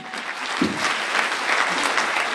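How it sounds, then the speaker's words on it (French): Audience applause for a conference speaker being introduced on stage, a dense, steady wash of clapping that holds at an even level from start to finish. "On l'applaudit."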